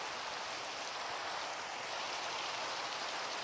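Minecraft rainfall, a continuous, even hiss of heavy rain that holds at a constant level with no talking over it.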